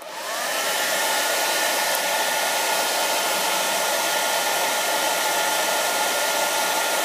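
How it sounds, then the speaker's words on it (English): A hair dryer blows steadily and loudly at close range into the end of LED rope light tubing, a constant rushing whirr that starts abruptly and continues without a break. "And again, just shove up the end of the hairdryer"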